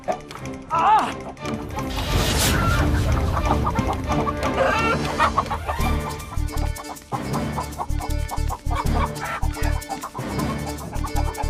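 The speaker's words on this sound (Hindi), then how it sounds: "हत्यारण मुर्गी हमारे पीछे पड़ गए।" A hen clucks repeatedly in a Tenali Rama TV episode over loud music and a speaking voice, the clucks fairly prominent and mixed with a busy soundtrack.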